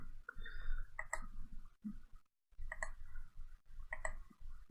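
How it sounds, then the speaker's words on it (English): Sharp mouse clicks during play of an online card game, arriving in quick clusters of two or three with short pauses between, close and crisp over a low background rumble. "I shouldn't have to do all this clicking here"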